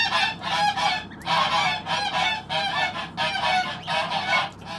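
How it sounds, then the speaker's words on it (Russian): Goslings and geese in an incubator hatching setting give repeated honking and peeping calls in close, steady bursts across the whole stretch, with no talking. "Точно гусят услышали."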